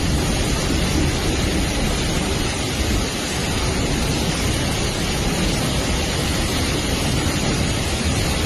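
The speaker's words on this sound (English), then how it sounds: "The downpour was so intense that the water level nearly reached the platforms." Intense downpour of heavy rain flooding city tracks near train platforms, a dense, steady roar of water filling the whole clip at constant loudness with no let-up.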